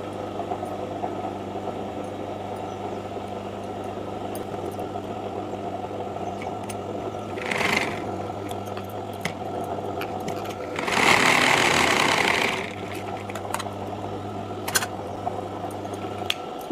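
A sewing machine stitches a blouse in steady whirring runs, one short burst then a longer louder stretch, over a constant low hum.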